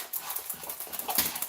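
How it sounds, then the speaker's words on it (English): Piper, a puppy, makes faint, soft snuffling and pawing noises close by in a quiet room, scattered light movements with no talk. "This is my puppy, Piper."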